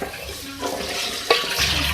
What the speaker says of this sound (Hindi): 2 कप इसके अंदर मैं पानी ऐड कर रही हूँ।